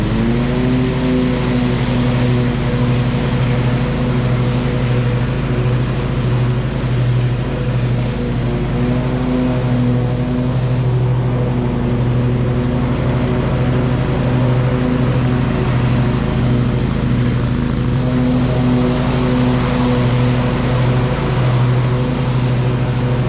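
A Bad Boy Maverick zero-turn mower, low on power and needing a deck belt, runs steadily through grass with a loud, constant engine drone and deep harmonic hum that holds nearly unchanged throughout, with no talk.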